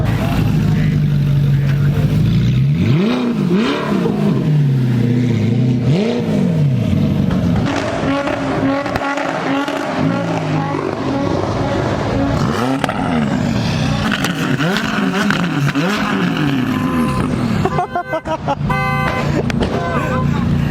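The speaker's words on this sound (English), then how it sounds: "they're already doing burnouts and all that" Cars rev hard and do burnouts at a California car rally, engines sweeping up and down in repeated howling bursts with tire noise, close and loud, while people talk nearby.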